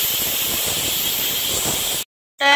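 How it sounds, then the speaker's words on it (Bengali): A pressure cooker on a gas stove, boiling potatoes, lets out a loud, steady hissing whistle of steam for about two seconds. It cuts off abruptly, then starts up again. "প্রেসারে সিটি ওটা শুরু করলো"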